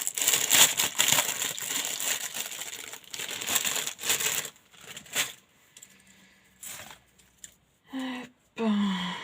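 Craft supplies being unwrapped from their packaging, with crinkling plastic and rustling handling noise for several seconds, then quieter pauses broken by short separate bursts of rattling and crumpling.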